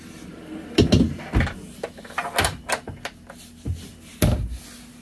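Several wooden knocks and thuds of a pull-out drawer below a pantry in a Class C motorhome sliding open and shut, irregular and close, with quiet pauses between.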